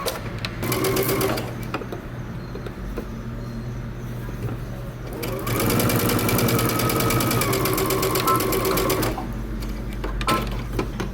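A sewing machine stitching a shirt dress from Simplicity pattern 8221, running in two sustained bursts with rapid mechanical needle clatter, close and loud, with a brief pause between them.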